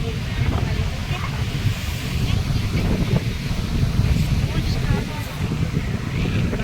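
Strong wind at a beach near Mangalore buffets the microphone in a steady low roar, with a broad rushing wash like surf underneath; voices are faint in the background.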